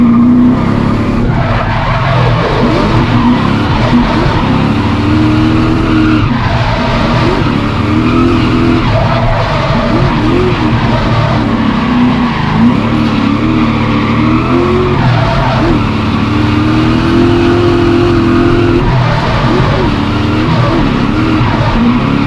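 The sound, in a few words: BMW E36 engine revving, tires skidding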